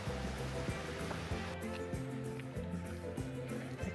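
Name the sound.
river flowing near a waterfall in Utah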